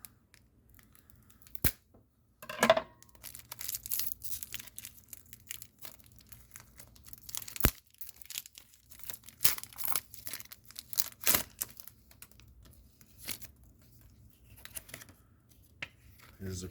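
A 1991 All World Boxing trading card pack is ripped open up close, with scattered crinkling, tearing and rustling of foil and cards, plus a few sharp snaps.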